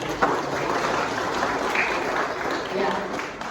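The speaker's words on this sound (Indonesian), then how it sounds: "Jadi tepuk tangan apresiasi itu untuk 51 orang anggota majelis." Church congregation clapping in appreciation for council members at a year-end service, a steady wash of many hands applauding at moderate level throughout, with faint voices underneath.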